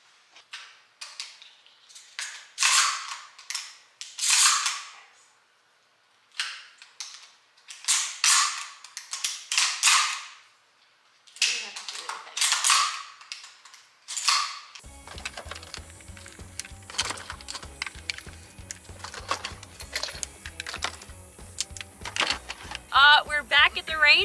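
A shotgun is handled and loaded with shells, giving sharp, close mechanical clicks and clacks in bursts separated by quiet gaps, followed by a denser stretch of layered noise with people talking.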